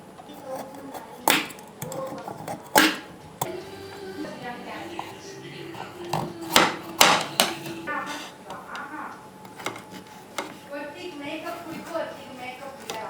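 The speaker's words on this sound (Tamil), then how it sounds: "இப்போ இந்த தேங்காயில் உள்ள இந்த தோல்கள் எல்லாத்தையும் நான் சீவரத்தை வச்சு சீவி எடுத்துக்கிறேன்." A peeler scraping the brown skin off a coconut, close-up rasping strokes with intermittent sharp knocks, while a person talks throughout.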